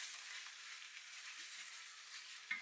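King prawn curry ingredients sizzle in a pan during a second frying, a faint, even hiss of frying with a small clink of stirring near the end, no voices.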